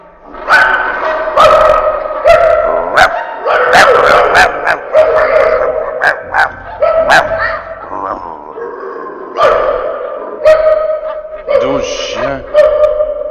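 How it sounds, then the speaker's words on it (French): Sled dog team of twelve dogs in a snowy setting, barking and yipping in repeated bursts throughout, loud and close, with some howling and whimpering mixed in. "Et enfin, un traîneau tiré par 12 chiens."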